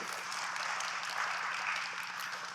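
Steady applause from a crowd at a mock job interview at a public-sector recruitment fair, even and sustained without a break, moderately loud throughout.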